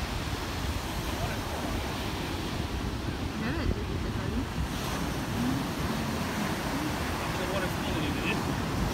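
Sea waves wash onto the shore in a continuous close, loud roar, with wind buffeting the microphone throughout.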